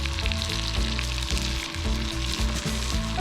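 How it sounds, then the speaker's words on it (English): Bacon sizzles and spits steadily on a camping griddle outdoors, a close, continuous frying hiss with faint scraping. "Well, let's get some bacon on here."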